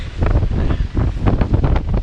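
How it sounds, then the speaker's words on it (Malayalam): Strong wind at Kolukkumalai, a hilltop off-road jeep safari spot, roars and buffets the microphone in continuous gusts, loud and close. "കാറ്റെന്ന് പറഞ്ഞാൽ ഒടുക്കത്തെ കാറ്റ്"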